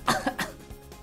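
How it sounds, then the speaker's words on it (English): A few quick, harsh coughs in close succession, near and fairly loud, with no talking. "Why are you coughing so much?"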